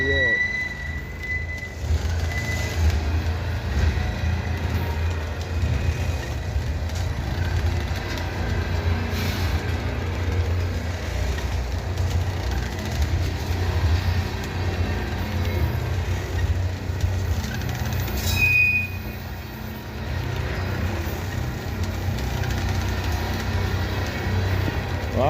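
A CSX freight train hauled by multiple locomotives rolls past with a continuous low rumble and grinding wheel noise that lasts throughout, while someone talks over it.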